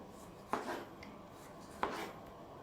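A knife chops tomatoes into cubes on a board, giving two faint, sharp cuts more than a second apart with quiet pauses between.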